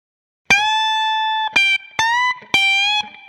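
Electric guitar with a distorted tone in blues style: a few sharp strikes raked down the fretboard, each falling into a sustained note, with brief gaps between them.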